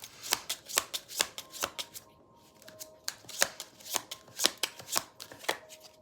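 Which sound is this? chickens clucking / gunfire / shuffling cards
shuffling cards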